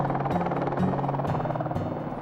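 A combat military helicopter drones steadily and fairly loud throughout, with its low rotor throb pulsing evenly beneath a constant engine whine and no talking.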